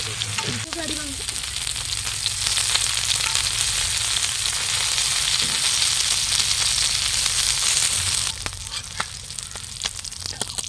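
Fish frying in hot oil gives a steady, close, broadband sizzle that runs for the whole stretch without pause, easing slightly in intensity near the end, with no voices over it.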